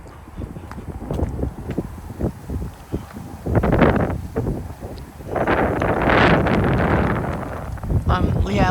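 Gusty wind of around 30 mph sweeping through a yard by an oak tree in Frisco, Texas, roaring and buffeting the microphone in rising and falling surges, with a person talking over it at times.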